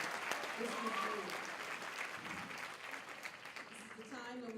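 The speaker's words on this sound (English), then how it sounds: "Let's give them another round of applause." Audience applause at a graduation ceremony, a quiet, steady clapping wash heard from a distance, with a few voices and a whistle-like tone rising briefly over it.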